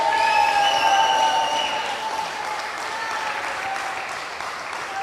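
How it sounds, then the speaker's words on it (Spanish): A large church congregation claps steadily and loudly during worship, with a sustained tone and faint voices carrying over the dense applause. "Dele más fuerte las palmas al Señor."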